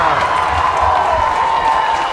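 High school football crowd at Hempfield vs Central York cheering after a defensive goal-line stop, a steady broad roar of voices and applause filling the stadium, loud and sustained.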